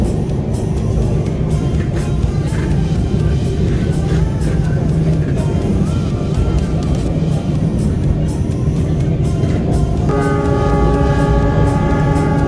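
A passenger train on an Indonesian line runs steadily along the rails, a loud continuous rumble and clatter, with a sustained horn-like tone rising near the end and faint voices underneath.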